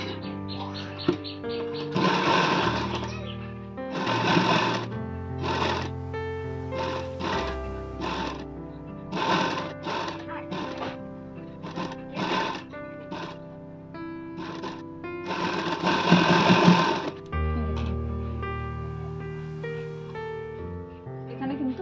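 A sewing machine stitches a princess-cut blouse in short, repeated bursts of whirring with pauses between runs, close and clear, while someone talks over parts of it.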